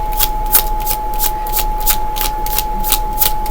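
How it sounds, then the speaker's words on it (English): Small tarot cards flicked in a fast, steady series of crisp papery snaps, close up and alone, with a faint constant electrical hum running underneath. "I love how these little cards flick."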